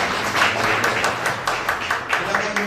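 A church congregation claps along through a service, steady overlapping handclaps filling the room with a faint voice mixed in.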